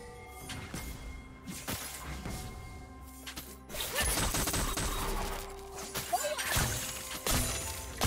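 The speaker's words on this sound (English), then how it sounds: "Red team's turret has been destroyed." A League of Legends turret is destroyed amid a game skirmish: scattered impacts build into a loud, crashing, shattering burst with sharp cracks, followed by further smashing hits and clatter.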